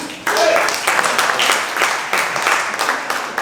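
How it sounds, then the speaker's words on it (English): A comedy show audience claps in scattered bursts, loud and close, with voices mixed in among the clapping. "Clap your hands if you live here, yeah?"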